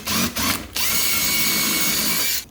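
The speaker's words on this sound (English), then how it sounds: "I'm gonna start it with a smaller drill bit" A handheld power drill spins a bit into an automotive part while fitting LED fog light cubes, two short bursts followed by a sustained, loud, high-pitched whine that cuts off at the end.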